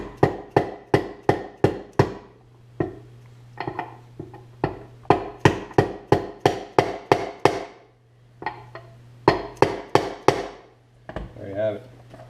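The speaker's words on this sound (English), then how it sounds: "I still have a socket here that I just punch it in here slowly." A wheel bearing on a Honda CRF 150 front wheel is hammered into place against a socket, producing loud, sharp metallic blows in quick bursts with short pauses between them and a low hum running underneath.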